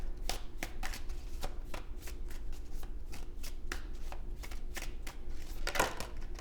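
Tarot cards are shuffled by hand in quick, crisp riffling bursts, a run of close, soft flicks and slaps with a brief sharper snap near the end, no one speaking.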